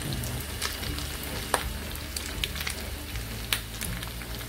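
Meat frying in hot oil for Filipino adobo, a loud close sizzle and crackle with occasional sharp pops and spatters, no voices.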